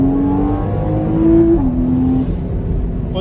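Porsche Cayman 981 with a naturally aspirated 3.4-litre flat-six, revving hard up through the range with a clear rising tone and a brief dip as it shifts, close and loud inside the car.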